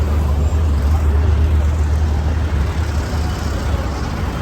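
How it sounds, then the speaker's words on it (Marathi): Steady, loud road traffic on a busy Delhi street, a dense rumble of cars, buses and trucks with a constant low engine drone and no single vehicle standing out. "हे बघा दिल्लीचं ट्रॅफिक"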